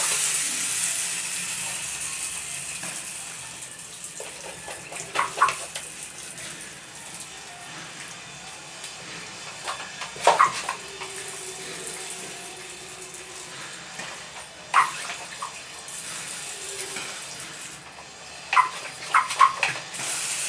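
Water trickles and splashes steadily while carrots growing in plastic containers at home are watered, with a continuous close wash of water punctuated every few seconds by brief louder clicks and knocks.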